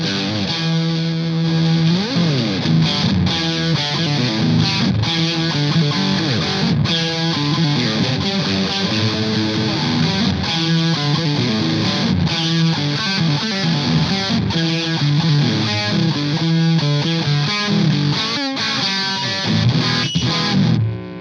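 A Telecaster electric guitar played through an Orange Micro Dark amp with heavy distortion, a dense, continuous fuzzy single-coil riff with strummed chords, loud and alone with no talk.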